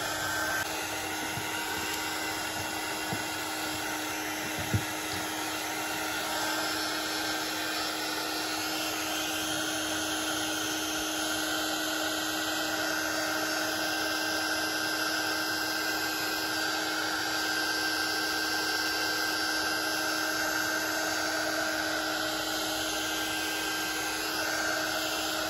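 A hair dryer blows steadily and loudly for the whole stretch, drying an altered playing card for a junk journal, with a constant whirring hum and one faint knock near the start, no talk.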